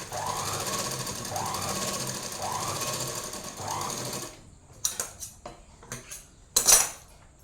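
A sewing machine runs steadily while stitching the sleeves of a chudidhar top, its fast rhythmic whirring continuing for about four seconds, then stopping and giving way to scattered clicks and handling noises of cloth and metal.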